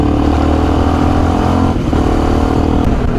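A supermoto 125 WRX motorcycle engine runs close and loud, a steady buzzing drone with a slight dip partway through, heard alone without talk.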